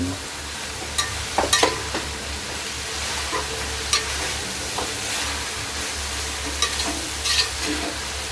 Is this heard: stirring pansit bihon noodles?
yes